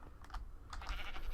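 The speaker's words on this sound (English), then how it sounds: "Yeah, I see you, sheep." A sheep in Minecraft bleats twice in quick succession, faint and somewhat distant over a low rumbling background hum, with no speech during the sound.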